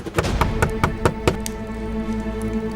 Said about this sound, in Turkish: Ulan Tilki, hani kimse çalmıyordu bu evin kapısını?